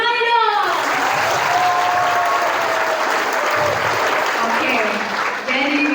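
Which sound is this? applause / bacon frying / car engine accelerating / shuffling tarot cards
applause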